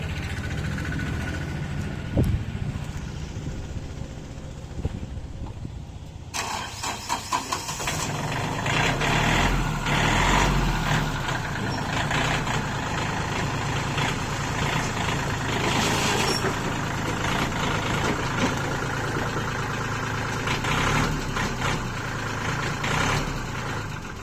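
Used farm tractor's engine runs steadily and close, rising to a louder, busier roar as the rear hitch is lifted, with a brief clank early on; no talking.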